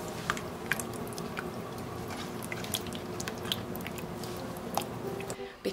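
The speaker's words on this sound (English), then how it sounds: "once again 4 cups of chopped cooked turkey. We're just going to stir that around." Chopped cooked turkey being stirred into a pot of keto white chili, giving soft wet squishing and faint clinks against a steady low background, close and quiet.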